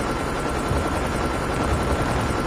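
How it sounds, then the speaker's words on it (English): A hostile stealth helicopter in Call of Duty Mobile gives off a dense, steady rotor roar, loud and close, an unbroken wash of noise with no speech over it. "Be advised, hostile stealth chopper inbound."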